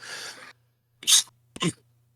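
A short breathy intake, then a sharp, loud sneeze burst followed by a second quick explosive sneeze, close and alone.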